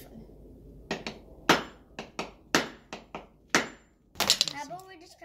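A hammer strikes a geode rock from Valley of Fire again and again, about a dozen sharp, loud cracking knocks at irregular intervals, ending in a quick cluster of blows.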